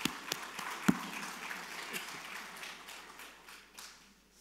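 A church congregation in Sydney applauds after a hymn, starting with a few sharp, distinct claps that soften into a quieter, thinning patter over about four seconds, with no talking.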